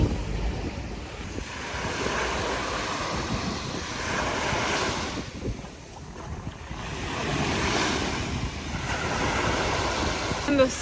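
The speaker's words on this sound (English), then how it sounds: "sound of like the waves crashing against the shore is so therapeutic for me" Waves crash and wash steadily against the shore beside a fishing village, a continuous rolling surf in broad swells with wind noise over the microphone and no talk.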